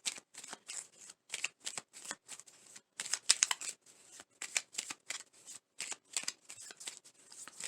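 Whispering Woods message cards being shuffled by hand, a steady run of crisp, papery riffles and flutters repeating in quick bursts, close and alone with no talking.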